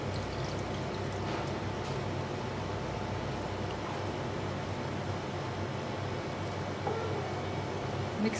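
A glass of milk is poured into melted butter while making suji gulab jamun, a steady, soft liquid pour with a faint hiss that runs on evenly and close by, with no speech.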